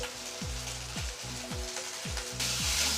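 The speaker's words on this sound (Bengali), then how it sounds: "এরপর মশলাটাকে কষবো ভালো করে।" Spice paste of chopped tomato, salt, ginger paste, coriander paste and chilli powder fries in a pan for a Bengali pea curry, a loud close sizzle broken by repeated stirring scrapes, with no talking.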